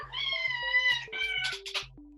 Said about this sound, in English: Ich habe eine Katze.